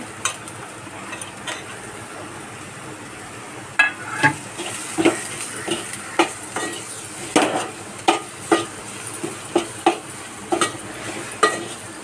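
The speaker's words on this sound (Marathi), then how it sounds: "ते चांगलं परतून घेते। मॅश केलेली बटाटी थोडी टाकून घेते।" Sautéing in a pan with mashed potato added for a bread cutlet, gentle sizzling under a series of sharp spatula taps and scrapes on the pan, close and fairly loud, with no talking.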